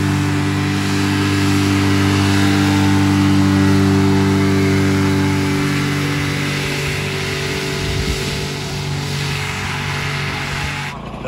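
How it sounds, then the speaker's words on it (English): A hovercraft engine revs hard out on open water, a loud, steady droning roar. After a few seconds it drops in pitch and power, as though over-revving, and keeps running unevenly to the end with no talking. "it revs up and hits, like, I mean, I can tell it's over revving and starting to lose power"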